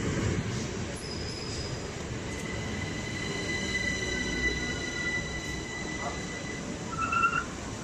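Southern Class 377 electric train on the Brighton to London Victoria service at Sydenham station, a steady rolling rumble with faint high squeals throughout and a brief louder burst near the end.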